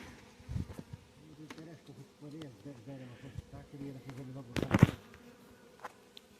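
Honey bees hum and drone steadily at close range at an old log hive left unopened for five years, with someone talking over the buzzing and a brief loud knock near the end.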